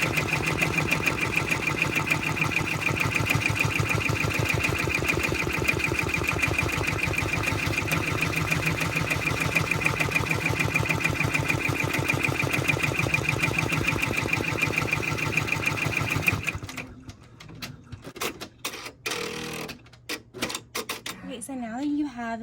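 An embroidery machine runs a confetti tack-down stitch in a fast, steady mechanical rhythm for about sixteen seconds, then stops, leaving scattered clicks and handling sounds; speech can be heard alongside.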